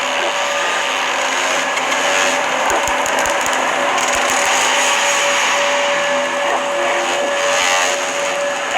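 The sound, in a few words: black hole gravitational wave sonification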